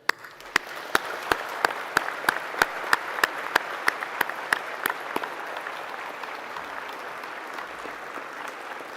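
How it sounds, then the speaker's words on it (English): Graduation ceremony audience applauding steadily for graduates and staff, a broad wash of clapping with a few sharp, close claps standing out in the first half, continuing evenly throughout. "Let us give them the applause they so richly deserve."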